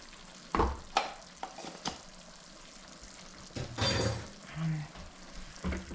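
Ginger and garlic frying and being stirred in a pan give a soft sizzle with scraping and clinking of a utensil, a few louder knocks in between, fairly close.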